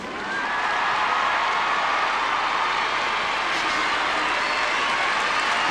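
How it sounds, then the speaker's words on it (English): A large French crowd at a 1999 Trophée Lalique figure skating competition roars with sustained cheering and applause, a dense, steady wash of noise that swells in and holds loud throughout, with no other distinct sounds standing out. "listen to this crowd"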